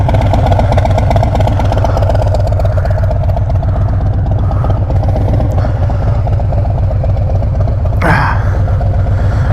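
A Harley-Davidson Road Glide fitted with a Vance and Hines Big Radius 2-into-2 exhaust idles close by, a loud, steady, loping rumble with a brief sharp blip near the end.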